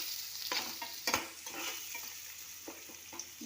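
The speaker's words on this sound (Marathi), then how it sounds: "आता कांदा आपल्याला लालसर असा शिजवून घ्यायचा आहे।" Chopped onion fries quietly in a pan, with soft sizzling and a few sharp spoon scrapes and taps as it is stirred, close up.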